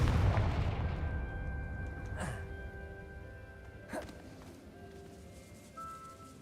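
A Confringo fire spell in Hogwarts Legacy goes off as a booming blast, followed by two sharp bursts and a fading rumble. A voice speaks faintly underneath.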